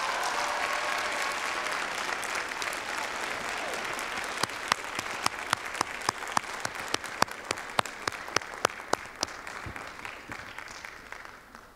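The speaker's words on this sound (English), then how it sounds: "Give a big round of applause for Dominique Bethel." An audience applauds a winner at a school Black History oratorical competition, a steady wash of clapping that turns into sharper, louder individual claps near the middle before fading away.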